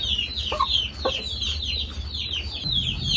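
A young chicken clucks repeatedly while being bathed with a water scoop, a steady run of close, sharp clucks over a low background rumble.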